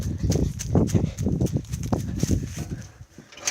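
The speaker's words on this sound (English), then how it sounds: "And there is my horse." Horse hooves clip-clopping on the ground inside a farm pen, a brisk irregular series of close, loud thuds and knocks continuing throughout.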